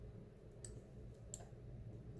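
Two faint, sharp computer mouse clicks, about 0.7 seconds apart, sound against a quiet room hum during work in a spreadsheet.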